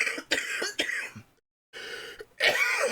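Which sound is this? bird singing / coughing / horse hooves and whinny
coughing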